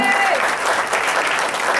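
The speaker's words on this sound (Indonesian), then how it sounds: "Tepuk tangan buat teman-teman sekalian ya." Applause from an audience in a hotel meeting room, steady dense clapping throughout a short burst, with a voice faintly present underneath.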